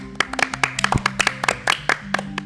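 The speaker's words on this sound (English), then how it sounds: "when he's done, they clap their hands, which feels like a weird thing to do" Classmates clap their hands in the visual novel game Katawa Shoujo, a quick run of sharp, uneven claps from a small group at close range, with a brief tonal musical backing underneath.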